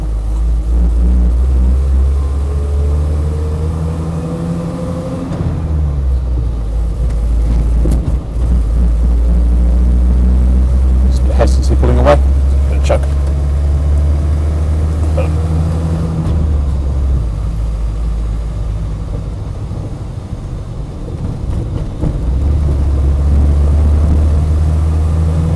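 Land Rover 110 CSW with power steering driving, its engine a steady loud low rumble throughout, with brief shifts in pitch as it changes gear and a few short knocks midway.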